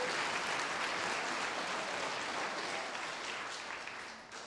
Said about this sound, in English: Let's give Kristen a round of applause.